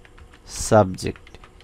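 Keys clatter on a computer keyboard as an email subject line is typed, a short burst of clicks with a brief voiced sound in the middle, close and fairly quiet.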